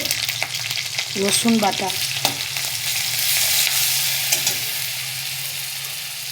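Black cumin seeds and slit green chilies frying in hot oil, a steady sizzle with occasional stirring, while a person briefly speaks over it.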